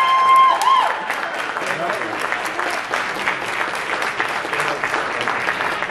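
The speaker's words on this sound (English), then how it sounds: "Big round of applause for mom and dad" Sustained applause from a large audience at a college awards ceremony, steady clapping that fills the room, with a brief tone and some voices at the start.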